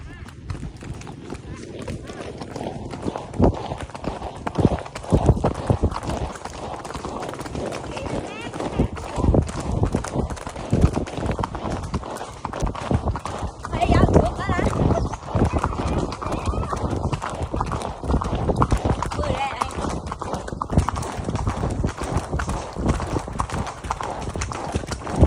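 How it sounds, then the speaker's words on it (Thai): Horse cantering along a farm trail ride in Chiang Mai, with rapid, loud, continuous hoofbeats close by for the full length, occasional whinnying, and voices talking over it. "คุณแม่สั่งม้าขึ้นคันเตอร์เลยครับ"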